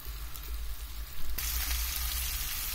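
Cornmeal-coated fish frying in a little oil in a pan, Black Sea style, with a steady close sizzle that swells louder midway and keeps crackling without any talk.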